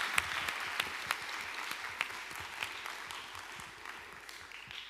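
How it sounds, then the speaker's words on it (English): A conference audience claps in a fairly quiet burst of applause that gradually fades over a few seconds. "A big round of applause for him"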